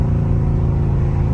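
Deep, loud rumbling burble of a Dodge Scat Pack engine downshifting in traffic, a brief steady throbbing note heard close up.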